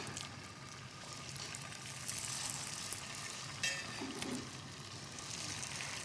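Tofu steak sizzles and fries in a hot pan, a steady, close crackling hiss that continues throughout with slight surges and no talking.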